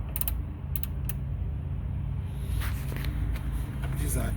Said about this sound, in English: So I will go ahead and unscrew this.